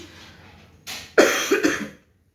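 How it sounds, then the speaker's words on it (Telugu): A person with a persistent two-month cough lets out a quick burst of about three harsh, loud coughs close to the microphone, which then cut off into silence. "దగ్గ అయితే విపరీతంగా వస్తుందన్నమాట కంటిన్యూస్గా వస్తుంది"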